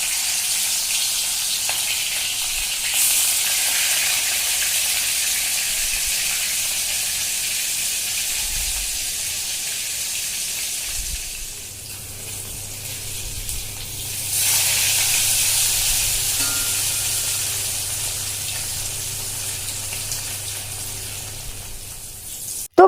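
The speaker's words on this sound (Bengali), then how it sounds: "এবার সবার প্রথমে আমি মাছগুলোকে ভালো করে ভেজে নেব।" Katla fish fry in hot oil in a wok, a steady loud close sizzle and hiss that runs unbroken throughout, swelling slightly at times, with no talking.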